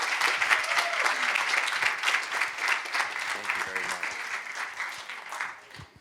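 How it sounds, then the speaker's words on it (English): Dense audience applause for a speaker at an All Clubs LA 2023 bike-law session, a continuous wash of many hands clapping at moderate volume, with a few voices faintly underneath, tapering slightly toward the end. "Once again, give a round of applause for Cassady Sakura Davidson."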